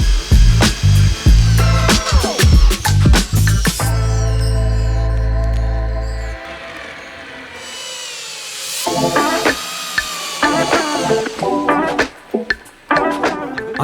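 A power drill drives screws into the wooden beams of a homemade cinema chair, giving loud close whirring bursts that rise and stop, separated by clunks and handling noise.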